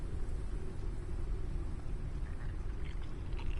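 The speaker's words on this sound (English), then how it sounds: "I don't do well in thunderstorms, and this game makes them very realistic." A thunderstorm in the survival game Forever Skies, a continuous low rumble with rain-like wash and faint higher patters, steady and moderately quiet with no speech.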